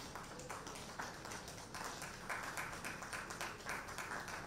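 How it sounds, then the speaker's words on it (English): Audience applause welcoming a host onto the stage at a live event, a faint, distant wash of many hands clapping that holds steady throughout. "A round of applause for her as she comes."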